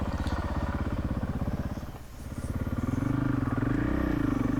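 A 450 dirt bike engine chugs in a steady, loud, close pulse while riding, with the note dipping briefly and then rising again as it revs, alongside a 2016 Yamaha WR450F.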